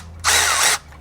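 A Milwaukee M12 Fuel 2557-20 cordless power ratchet, used with a Husky impact socket set, whirs up close in one loud half-second burst and then cuts off abruptly, with no talking.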